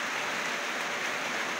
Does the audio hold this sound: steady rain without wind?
yes